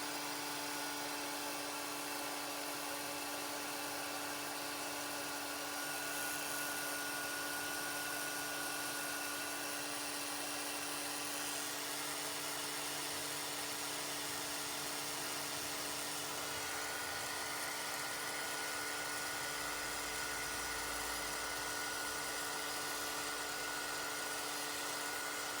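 A heat tool blows steadily up close to melt inked embossing powder on a label stamp, a constant whirring hum with a slight shift in pitch partway through, no voices.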